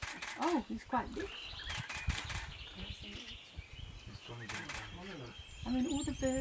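Birds calling around a crocodile catching catfish, with chirps and squawks scattered through the clip over continuous talking and outdoor noise.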